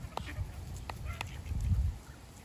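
Geese and ducks honk at a pond during feeding, with a few sharp nearby calls and a low, busy honking chorus underneath.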